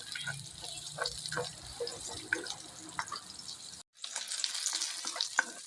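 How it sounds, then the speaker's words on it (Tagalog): Onions sautéing in a pan for coconut-milk chayote with moringa, a steady close frying hiss with soft scrapes and clinks, a brief silent gap near the end before the sizzle returns louder. "Sabayin na natin yung sibuyas. Gigisa lang hanggang lalabas yung kanila ang aroma."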